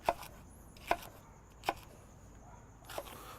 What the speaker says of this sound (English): So we'll do a rough chop of the rest of the ingredients.